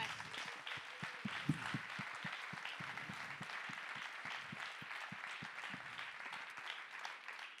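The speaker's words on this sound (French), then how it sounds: "vous pouvez vous applaudir" A crowd applauds steadily, many hands clapping in a dense, continuous patter at moderate distance, with no voices on top.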